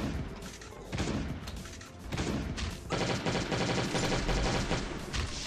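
Gunfire from the survival video game Last Day on Earth during a boss fight, loud repeated shots and bursts layered over busy combat noise and music, steady and close throughout.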